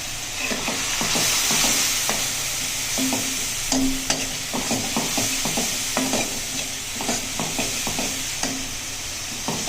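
Salt, red chili powder and turmeric roasting in a pan for Punjabi-style chana dal with lauki, with a spoon stirring and scraping in irregular bursts over a steady, close sizzle.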